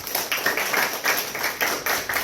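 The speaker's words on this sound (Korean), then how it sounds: "뜨겁게 박수 한번." Scattered clapping from a small high school church congregation, a steady patter of hand claps with regular bursts, moderately quiet and with no talking.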